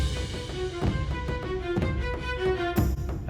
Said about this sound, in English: So with those, I also added this viola, bringing back this kind of offbeat rhythm,